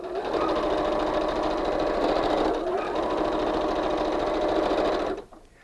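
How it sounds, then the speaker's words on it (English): A sewing machine runs continuously at a fast, even stitching rhythm, loud and close, then stops abruptly just before the end. "I'll take this over to the sewing machine."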